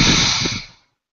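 A single deep breath through the nose, heard as a close, airy hiss that holds briefly and then fades out into silence.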